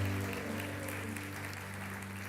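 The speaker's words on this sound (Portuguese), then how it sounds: "Aleluia, aplauda dando glória a Deus" Church congregation applauding during a sermon, a soft, continuous patter of clapping with a low steady hum from musical instruments underneath, no speech over it.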